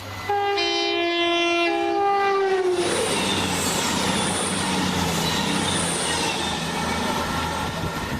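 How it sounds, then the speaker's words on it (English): A train sounds its horn in a long steady blast and then thunders past right beside a flat, the horn giving way to a loud continuous rumble and rattle of wheels that fills the rest of the passage. "It's mere millimeters from the nearest train."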